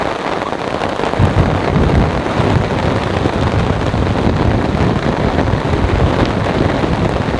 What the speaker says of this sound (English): The wind is coming in quite strong, and that means the rain is now going horizontal.